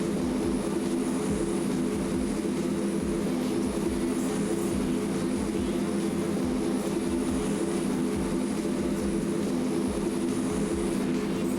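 Airplane engine in a flight simulator game, cruising level at 8,000 feet, gives off a steady, loud, unbroken drone with a constant tone throughout.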